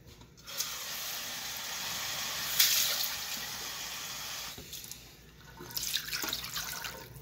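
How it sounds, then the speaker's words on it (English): Water runs from a kitchen tap into a pan for a meatloaf dish, a close, steady hiss and splash that dips briefly midway and then surges again with a brighter spray. "I'm going to add some water."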